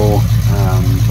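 A 1979 Chevy square body V8 with an RV cam, open headers and no mufflers idles in a low, pulsing rumble. The rumble is steady and close, with a voice talking over it.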